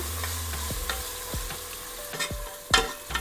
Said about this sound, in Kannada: 1/4 kg ಮಟನ್ ಇಟ್ಕೊಂಡಿರ್ತೀವಲ್ಲ, ಎಲ್ಲ ಸ್ವಲ್ಪ ಮೂಳೆ ಥರ ಇರಬೇಕು. ಅದನ್ನು ಹಾಕ್ಕೊಳ್ಳೋಣ, ಮಿಕ್ಸ್ ಮಾಡ್ಕೊಳ್ಳೋಣ.